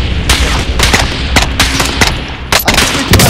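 Gunfire in the battle royale game Call of Duty Warzone: loud, close bursts of rapid automatic shots in uneven clusters, with sharp cracks standing out over a dense background of firing.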